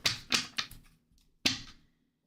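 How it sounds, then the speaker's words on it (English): Tarot cards shuffled by hand during a reading, giving three quick riffling bursts close up, a short pause, then one more brisk flutter, with no talking. "Let's shuffle really good."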